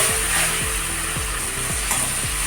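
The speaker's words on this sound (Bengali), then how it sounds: "ভালো করে মশলাটা কষে নেব" A spice paste fries in a pan for a fish curry with aubergine, potato and tomato, sizzling steadily while a utensil stirs and scrapes in a regular rhythm of about one stroke every half second, close up, no talking.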